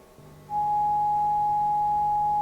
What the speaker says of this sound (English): Then we'll do the sine wave.